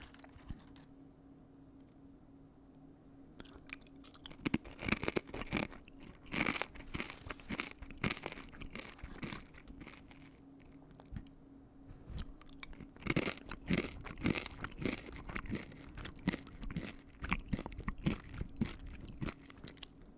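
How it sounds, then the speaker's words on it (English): Tortilla chips being crunched and chewed close to the mic, a steady run of sharp, irregular crackling bites and grinding mastication over about twenty seconds without speech. "I think they're too crunchy for my preference of chips, and they just do not pack enough flavor on their own"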